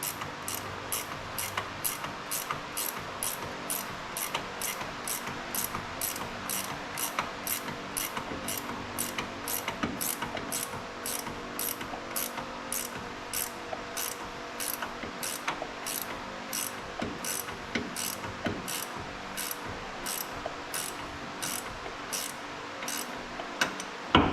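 A ratchet wrench clicks steadily while tightening a threaded bolt on an upper ball joint, a long, even run of fast, close pawl ticks with no talking.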